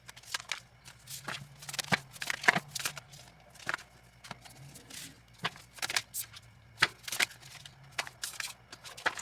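Tarot cards being shuffled by hand, a run of quick, crisp riffling bursts and soft taps repeating close and quiet, with no talking.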